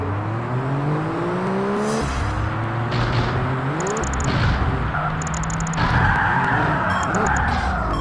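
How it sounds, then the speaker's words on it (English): A racing car drifting in Project Gotham Racing 2001, with a steady engine drone and shifting pitch as tires skid and squeal through corners, continuous and close, with some talk over it. "Drifting like a pro."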